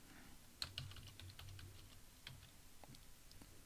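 A computer keyboard clicks in quick, irregular keystrokes as a database root password is typed, close and quiet, with no talking.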